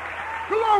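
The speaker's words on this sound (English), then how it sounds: "clap your hands and give God a great big cheer." A church congregation breaks into clapping and cheering at a lively evening service, the applause swelling louder partway through and continuing steadily to the end.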